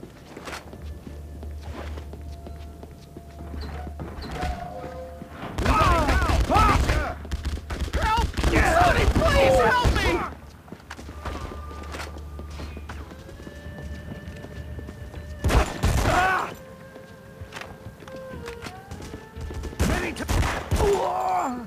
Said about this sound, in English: Stay here until the gunfire stops.